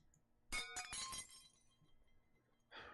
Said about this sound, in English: I hear the sound of something shatter down the hallway